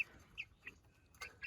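Meat chickens clucking nearby in a backyard coop, a few short, soft clucks and chirps spaced across a brief quiet moment.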